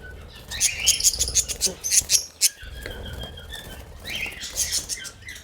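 Aviary budgerigars chirp in busy bursts with short wing flaps, close and fairly loud, while someone talks nearby at times.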